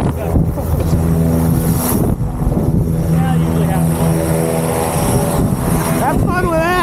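A propeller plane runs loud and close at a skydiving airfield, its engine a continuous droning roar with shifting tones while people talk over it.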